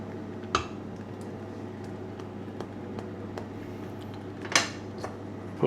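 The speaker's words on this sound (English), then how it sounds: "Put the lid on" A lid set onto a pot of simmering homemade bravas sauce, giving a couple of sharp metallic clinks and a clatter among lighter kitchen knocks over a low steady hum, with no talking.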